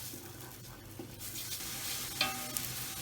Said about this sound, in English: And we'll add our onions straight in. And we just want to lightly fry these.